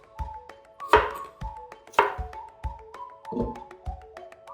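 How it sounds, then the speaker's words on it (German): A knife chops through asparagus on a cutting board, roughly a dozen crisp, evenly spaced thunks close up, with a couple of louder, sharper strikes among them. "Spargel schälen, die holzigen Enden abschneiden, dann in Stücke schneiden."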